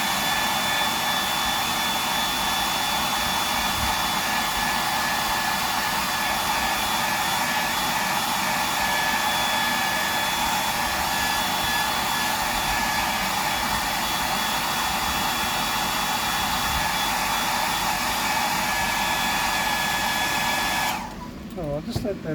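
A hair dryer blows steadily at close range to dry paint on a handmade fishing lure, a loud continuous airy roar that holds for about twenty seconds before cutting off abruptly near the end.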